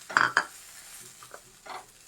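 A spoon stirs squid with turmeric, chilli, coriander and pepper powders in a pan: two sharp scraping clinks up front, then a soft background sizzle with quieter scrapes later, no talking.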